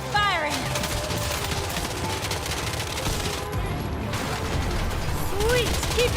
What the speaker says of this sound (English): Aim for the tires. Help them deflate. Well done. Another one. Don't stop firing.